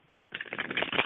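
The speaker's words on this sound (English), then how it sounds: "Just shuffle a little bit." Tarot cards are shuffled by hand, a brief close riffle of papery flicking that starts abruptly after a moment of quiet and continues for under a second.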